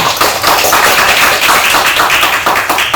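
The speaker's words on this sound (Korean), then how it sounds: "일단 큰 박수 부탁드립니다." Loud, dense applause from a crowd, steady clapping throughout with no pause.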